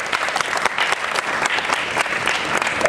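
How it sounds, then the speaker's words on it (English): A town hall audience claps for a teacher in dense, steady applause that fills the room, loud and sustained throughout with no speech over it. "Let's give her a round of applause for everything that"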